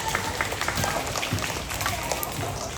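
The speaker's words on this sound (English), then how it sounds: "Hey, round of applause, please, Sacred Heart Scholars." Applause from a student audience at a school morning meeting, Sacred Heart Scholars, a dense steady patter of clapping filling the room throughout, with some voices mixed in.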